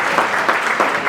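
Loud, dense applause from an audience at a literary talk on writing a first novel, a brief burst of many hands clapping together close by.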